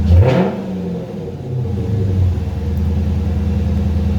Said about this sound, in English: that's my favorite thing of HEMIs, is hearing the exhaust